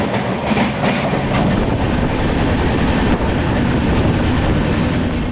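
The Howrah to New Jalpaiguri Shatabdi Express (12041) rumbles along at speed, a loud, steady roar of wheels and carriage noise with faint rhythmic clatter running continuously throughout.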